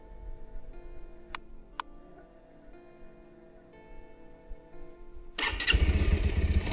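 A 2025 Bajaj Pulsar 150 motorcycle running very low on fuel is hard to start. A quiet hum and two sharp ticks come first, then the engine suddenly catches and settles into a loud, rumbling idle close by.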